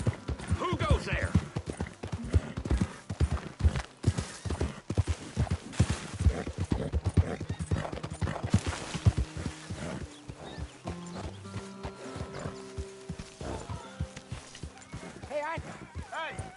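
Hooves clip-clop steadily in Red Dead Redemption 2 as a horse walks, with occasional neighs and snorts, while voices talk over the close, rhythmic hoofbeats and game music.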